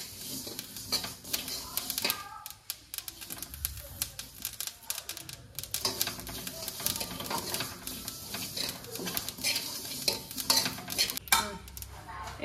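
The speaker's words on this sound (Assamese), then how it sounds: "এনেকৈ গোটা মছলা ভাজি দিলে মানে আচাৰখিনি ভাল হয়" Whole spices fry in hot oil for a mango pickle while a spoon stirs and scrapes the pan in irregular bursts, with a light sizzle beneath the clatter.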